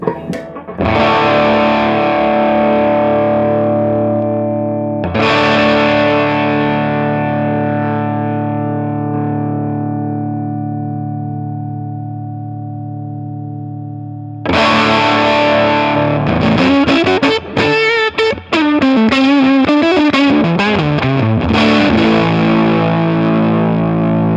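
Loud fuzzed electric guitar through a Kingtone Octaland V2 octave fuzz pedal on its bright setting: two long ringing chords that slowly decay, then a bright, gritty run of fast distorted notes.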